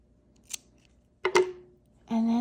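Scissors snip through yarn while finishing a piece of woven needlework, giving a couple of short, crisp close cuts among quiet pauses.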